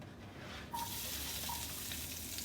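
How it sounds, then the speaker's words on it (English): A steady, crackling sizzle of garlic frying in hot oil begins abruptly and keeps going evenly, close by, with no voices. "You hear that nice sizzle?"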